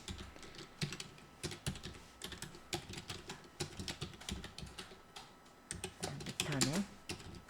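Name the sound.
typing on a computer keyboard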